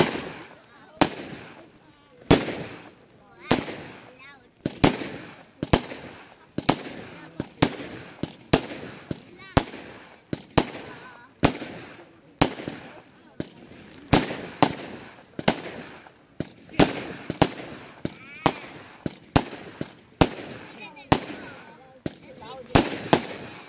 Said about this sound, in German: eine Goldflimmer-Kometenbatterie mit einem Brillantbouquet